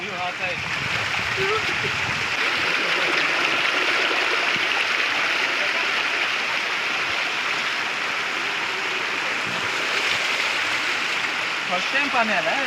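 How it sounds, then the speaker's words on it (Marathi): A constant loud roar of rushing floodwater from heavy rain in Konkan, India, flowing over a bridge, fills the whole stretch, with people's voices heard faintly over it now and then. "बाप रे किती पाणी आलं आहे पाणीच पाणी जिकडे तिकडे"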